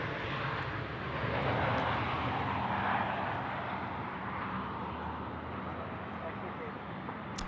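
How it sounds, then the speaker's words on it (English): An airliner roars with reverse thrust while landing at Sydney Airport, a broad, sustained engine rush that swells and slowly eases, heard from a distance with a person talking over it. "reverse thrust on those bad boys,"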